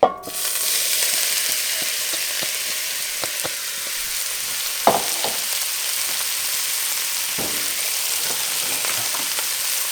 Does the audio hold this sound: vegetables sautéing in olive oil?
yes